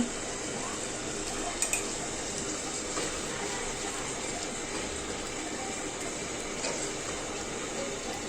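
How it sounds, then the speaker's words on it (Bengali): Spices with a little salt fry in a pan for a Bangladeshi Eid meat dish, giving a steady soft sizzle with occasional clinks of a spoon stirring against the pan, no talking. "এখন ভালো মতন মশলাগুলো ভালো মতো কষায় নেব এখন সামান্য অল্প একটু লবণ দিয়ে দেবো"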